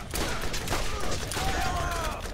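Dense gunfire rattles in the first-person shooter video game Borderlands 1, with overlapping shots and bursts that come from many directions without pause.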